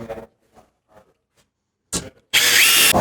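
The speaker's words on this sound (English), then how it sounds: "We screw the posts to the post brackets." Power drill driving screws to fasten pocket door frame posts into their brackets, with a few soft handling knocks and a short burst before one loud, sustained whir of the drill close by.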